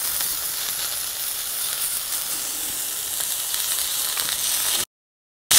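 Beef steak sizzling on a plancha while a small spatula scrapes it, a loud, bright, steady hiss that cuts off abruptly near the end before resuming briefly.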